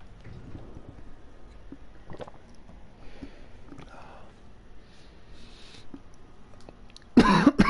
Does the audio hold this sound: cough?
yes